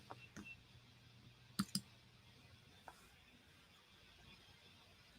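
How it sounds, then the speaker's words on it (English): A computer mouse clicks very faintly in a quiet room. A few sharp, isolated clicks stand out, two of them close together, over a low background hum. "I'm just clicking on this thing."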